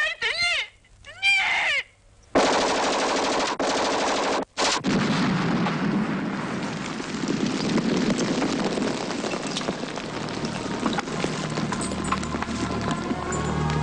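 Rapid bursts of gunfire and heavy battle noise fill a 1995 Ukrainian historical war drama scene, loud and continuous after a short pause, following a few distressed voices at the start.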